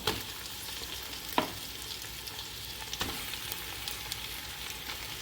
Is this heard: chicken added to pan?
yes